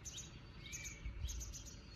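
Baby magpie chicks in a nest hidden inside a pile of stacked bricks, faint high chirps in short repeated bursts over a soft low background rumble.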